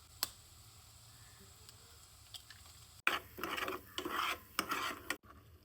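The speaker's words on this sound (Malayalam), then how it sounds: "ഈ സംഭവത്തിലേക്ക് വെറുതെ മുട്ട അതിനെ ഒഴിച്ചിട്ട് ചിക്കി എടുക്കുക." Egg being scrambled in a pan for a homemade curry: a quiet stretch, then rapid scraping and stirring against the pan with short sharp clinks, close and fairly loud, no voices.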